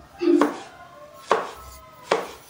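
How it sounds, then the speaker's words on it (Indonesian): Three crisp knife chops thinly slicing a tomato land on a cutting board in a slow, even rhythm, close and clear against a quiet background. "Kita iris tipis-tipis."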